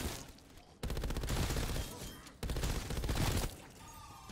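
Rapid machine gun fire in Call of Duty: Zombies on the Forsaken map, two sustained bursts of dense, loud automatic shots separated by a short pause, ending abruptly.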